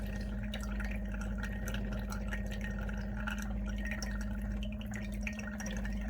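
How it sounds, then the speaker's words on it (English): Water trickles and drips steadily from the outlet of a portable reverse osmosis filtration system over a low constant pump hum, close by and fairly quiet, with no talking. "And there's the rate of water coming out."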